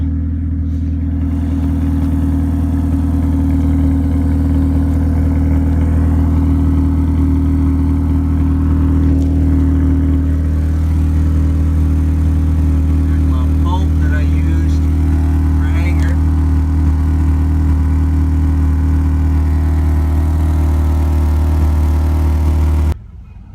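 A straight-piped Honda Accord engine rumbles steadily up close with a deep, throaty exhaust drone, holding a constant roar before cutting off at the end.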